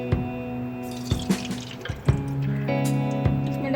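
A cup of cooking oil is poured into a pressure cooker while making a mutton gosht with whole spices, giving close, wet dripping and splashing with a few sharp taps against the metal pot.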